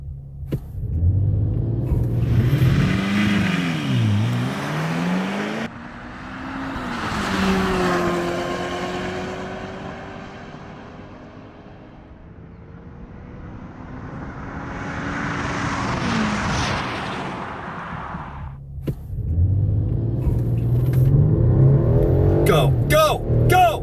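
A Ferrari F40 and a Mercedes E450 wagon race side by side, engines roaring and revving through rising and falling gear pulls, loud and close, with voices shouting over the noise.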